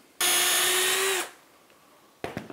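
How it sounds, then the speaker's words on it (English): A power drill bores into wood while building a tracksaw cutting station, a loud whine for about a second that winds down, followed by a brief knock of handling. "so I've drilled that"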